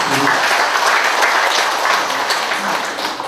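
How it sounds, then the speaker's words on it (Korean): Audience applause fills a hall at a Uiseong Kim clan gathering in Cheongsong County, dense steady clapping sustained loudly throughout with no break. "모든 분들께 다시 한번 큰 박수 부탁드리겠습니다."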